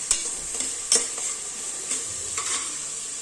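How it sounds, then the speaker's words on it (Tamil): Ginger garlic paste and curry leaves fry in hot oil with a steady sizzle, while a spoon scrapes and stirs the pan in several sharp clinks, close up and with no talking. "ஒரு கொத்து கருவேப்பிலை போட்டுக்கலாம் இது வளர்ந்தோடனே இஞ்சி பூண்டு பேஸ்ட் போட்டுக்கலாம்"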